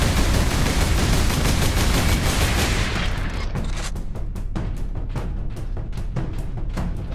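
A missile launcher fires in Warhammer 40,000: Space Marine, a dense roaring barrage of blasts for about three seconds, then a string of sharp separate bangs that keep popping at a quick, uneven pace.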